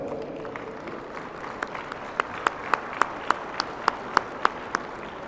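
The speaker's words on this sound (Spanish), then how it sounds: "si le dan un fuerte aplauso al embajador" A conference audience applauds Ambassador Carlos Pascual. Soft, diffuse clapping builds into a row of sharp, evenly spaced claps that stand out clearly near the end.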